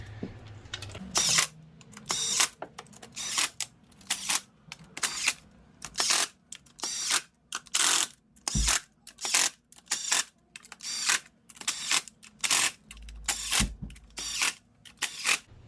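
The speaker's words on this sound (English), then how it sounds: "then we're gonna be bottoming it out with the impact right here. I'll use a 8mm socket." An impact wrench with an 8mm socket runs valve cover bolts down on a Chevy Cruze 1.4L engine, giving about a dozen short, loud, rattling bursts in a steady rhythm, separated by brief quiet gaps, with no talking.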